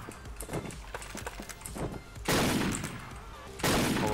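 Gunfire in the online shooter Wolfteam: a loose run of quieter shots and impacts, then two heavy, sustained bursts of loud, close firing.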